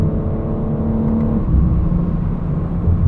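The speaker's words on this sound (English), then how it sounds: "there's a little bit more tire noise from these Pilot Sport 4S's than I would like" Steady cabin hum of tire and road noise from a 2022 BMW M4 Competition xDrive Convertible on Michelin Pilot Sport 4S tires, a continuous low droning rumble with a faint engine whir, no voices.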